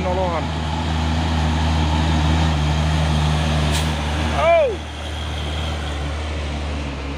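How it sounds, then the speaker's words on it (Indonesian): A Fuso trailer truck carrying a container drives past on a road, giving a steady heavy diesel rumble with a brief rising-falling squeal of air brakes or a horn partway through, then a quieter continuing drone. "dan ada juga satu nih truk trailer Puso membawa kontainernya"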